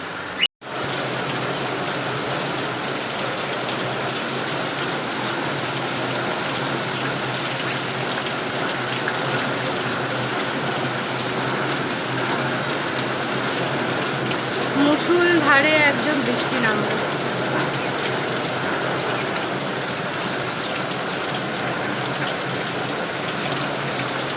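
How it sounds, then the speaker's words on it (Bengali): Heavy rain pours continuously with a loud, even roar of drops on surfaces, steady from start to finish, with a brief faint voice partway through. "এটা খুব জোরে বৃষ্টি নেমেছে"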